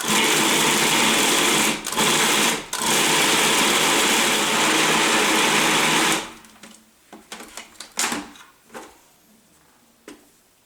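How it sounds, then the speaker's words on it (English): A food processor grinds marubini filling ingredients in a loud steady whir with two short breaks, then stops after about six seconds, followed by clattering and handling sounds of the lid and bowl. "now we're going to close this up and just grind everything down"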